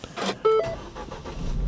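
A car engine starting during a battery starting test: short electronic beeps, then the starter turning and the engine catching into a steady, close running rumble.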